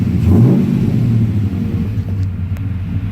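A heavy swapped LS V8 engine in a Dodge truck rumbles loudly up close, surging slightly with a light throttle blip before settling back to a deep, uneven idle.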